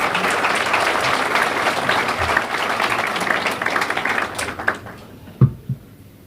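An audience at a mayor's New Year ceremony in a town hall claps in a dense, sustained round that thins into a few scattered claps before fading to near silence.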